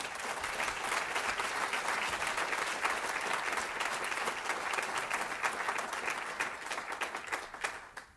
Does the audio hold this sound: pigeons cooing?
no